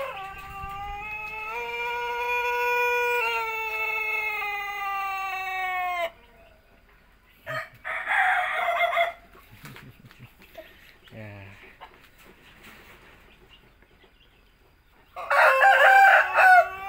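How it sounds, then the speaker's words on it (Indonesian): A Bangkok rooster on a farm crows loudly and close, one long drawn-out harmonic crow with a trailing end, followed by quieter coop noises and bursts of squawking or clucking. "Kokok lagi ya. Suaramu kok enak. Ini ayam bangkok raja dari kandang."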